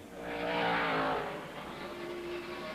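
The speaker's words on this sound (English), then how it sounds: "Terry Labonte being passed by Kenny Irwin in the car number 28" NASCAR stock car, the number 28 overtaking another on track during practice, a single loud engine roar that swells and sweeps past, then fades into a lingering whine.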